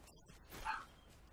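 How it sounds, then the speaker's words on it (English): A single faint dog bark from far in the background, a brief soft yip rising out of low room noise. "I apologize if you hear a dog barking in the far, far background."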